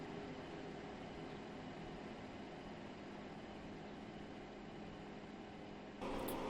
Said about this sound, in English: So that train is heading out.